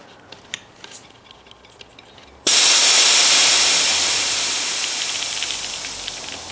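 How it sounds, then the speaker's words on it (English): Air hisses out of a Brompton bicycle tyre as it is deflated. After a quiet start with a few faint clicks, the hiss bursts in loudly and keeps going steadily, easing off only slightly. "So I'm going to try deflating the tyre to see if I can do it."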